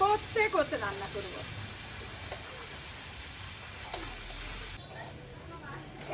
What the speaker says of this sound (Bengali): এইটা দিয়েও আরো বেশ সুন্দর করে কষে নেবো, ওই 4-5 মিনিটের মতো।